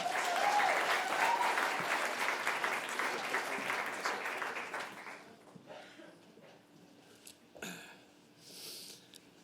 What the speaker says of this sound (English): give another round of applause for John as he takes the mic.